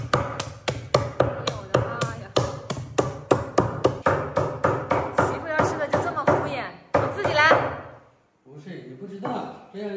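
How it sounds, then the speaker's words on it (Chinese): Cleaver chopping through duck wings on a board, a rapid series of sharp, close, loud chops in steady rhythm, then a few scraping sounds near the end. "那把这个翅膀砍下来"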